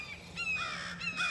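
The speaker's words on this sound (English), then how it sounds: "okay, big old bird, I hear you." A large bird, crow-like, gives a few quick harsh caws outdoors at moderate distance. The calls are brief and clear over a faint steady background, with no talking.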